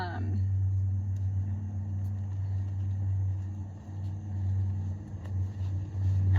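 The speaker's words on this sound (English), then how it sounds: "Loud car just went by, sorry." A low engine rumble from a passing car holds steady throughout, with a faint background hiss and a few small clicks.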